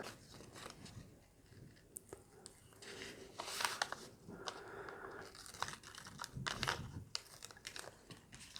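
Small pearloid fretboard marker pieces being cut roughly to size, heard as quiet close crinkling and snipping with scattered sharp clicks over a soft background hiss.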